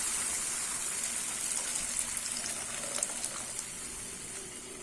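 Water gushes and splashes as it's poured, a soft continuous rush with a few small clinks and sizzling crackles.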